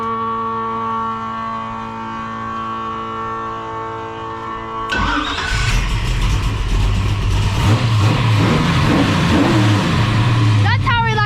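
A Holden HT Monaro engine, fitted with a new ignition module, cranks over a steady tonal drone before catching about halfway through. It then settles into a loud, continuous rough idle with slight revving.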